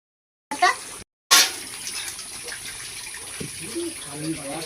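Tea liquor poured into half-cooked Bengali-style mutton in a pot, with two short splashing pours followed by a soft, steady simmering hiss, close by and at moderate loudness.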